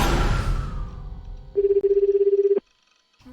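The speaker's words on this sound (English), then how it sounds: "Beyond the phone, the monotonous sound of a call to her went straight on ringing." An unanswered phone call rings in the Chaos;Head visual novel, a steady pulsing electronic tone lasting about a second before cutting off abruptly, preceded by a fading noisy wash and followed by near silence and a faint blip.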